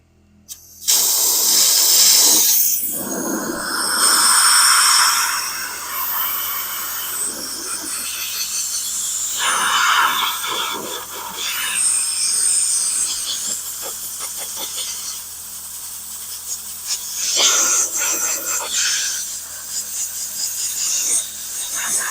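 A homemade sandblaster running at about 80 psi gives a loud, continuous rushing hiss, close by, that surges and rasps unevenly as wet sand sputters through it, with no speech.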